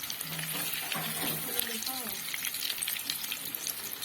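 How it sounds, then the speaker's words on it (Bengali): Egg chops frying in a pan of oil, flipped so both sides cook, giving a steady broadband sizzle that stays loud throughout, with faint background music tones early on. "একদিকটা ভাজা হলে আর একদিকটা উল্টো পাল্টে নিয়ে এটিকে ভালোভাবে ভেজে নিতে হবে"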